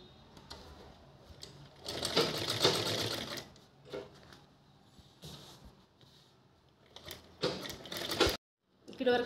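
A sewing machine stitches the fabric of an old shopping bag, running in quick mechanical bursts with pauses between them, close and moderately loud.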